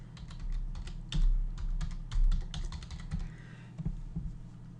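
Quick, uneven keystrokes clatter on a computer keyboard, close and fairly quiet, with a few louder taps mixed in.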